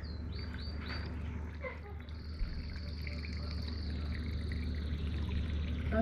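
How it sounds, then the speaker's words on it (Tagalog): Water is poured into a cooking pan of kafta patata, a soft continuous pouring trickle close by, with birds chirping faintly in the background. "Lagyan natin ng tubig."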